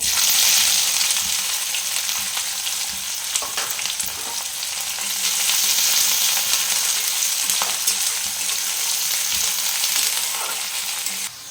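Chopped onion frying in hot oil with cumin seeds crackles loudly and continuously at close range, with faint stirring clicks scattered through the steady sizzle.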